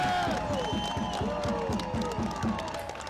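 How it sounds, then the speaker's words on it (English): A crowd at an outdoor immigration protest in Liverpool claps and cheers in a steady, rhythmic burst, with voices calling out over the applause throughout. "Can I get a round of applause for everyone who's got a spare hand?"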